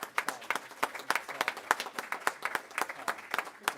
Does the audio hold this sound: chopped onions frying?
no